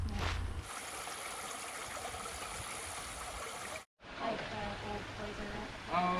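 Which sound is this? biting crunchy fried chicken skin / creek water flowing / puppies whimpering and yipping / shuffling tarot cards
creek water flowing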